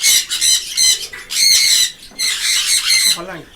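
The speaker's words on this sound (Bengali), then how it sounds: "নিচে রেড ফ্যাক্টর ঝান্ডিয়া রয়েছে, রেড ফ্যাক্টর ঝান্ডিয়ার নতুন পেয়ার।" A new pair of red factor Jandaya conures at a bird farm squawk loudly and repeatedly at close range, shrill calls tumbling over one another in quick bursts with brief gaps.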